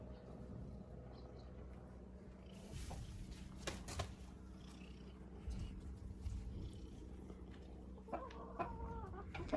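Young hens cluck and murmur softly in a continuous low background, with a few sharper calls and rustles standing out near the end.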